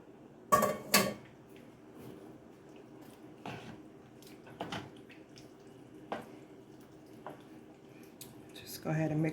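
Ground beef is added to a cooking pot for chilli, with scattered clinks and scrapes of a utensil against the pot and soft wet thuds, spaced out across a fairly quiet kitchen.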